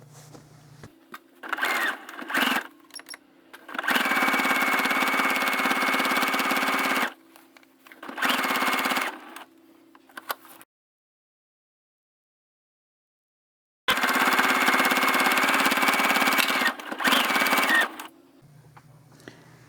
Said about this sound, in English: I'm going to do an edge stitch right along this edge.